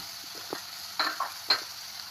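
Curry leaves dropped into hot oil in a pan give several short sizzling crackles and stirring taps over a steady hiss, close and fairly quiet, no voices.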